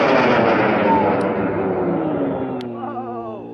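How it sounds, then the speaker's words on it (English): A K454 high-power model rocket motor ignites and launches from the pad, giving a loud, continuous roaring rush that slowly fades as the rocket climbs away, with faint distant voices near the end. "we're going to fly it in 5, 4, 3, 2, 1, ignition"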